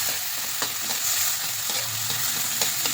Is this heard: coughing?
no